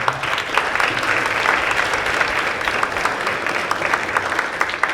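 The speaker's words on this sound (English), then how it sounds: "if I can get a round of applause for Zilpa, Dan, and Ken" Steady applause from a crowd, dense clapping that holds at an even level throughout without pause.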